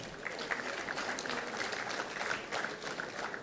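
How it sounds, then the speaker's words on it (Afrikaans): An audience at a school sports dinner claps steadily, a fairly soft, even patter of many hands heard from within the hall, with no talking over it. "Kom ons gee vir hulle 'n lekker hande klap."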